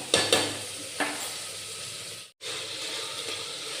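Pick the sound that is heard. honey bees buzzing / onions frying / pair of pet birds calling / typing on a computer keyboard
onions frying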